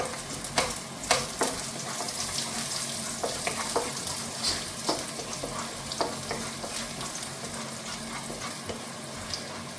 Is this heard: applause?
no